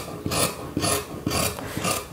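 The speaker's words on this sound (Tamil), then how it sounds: "இப்போ நம்ம ஸ்லீவ் கட் பண்ணிக்கலாம்" Scissors cut through blouse sleeve fabric in four even, rhythmic strokes, each a close, rasping crunch about half a second apart, with no voices.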